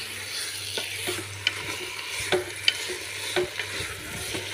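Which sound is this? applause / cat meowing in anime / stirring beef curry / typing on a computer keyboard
stirring beef curry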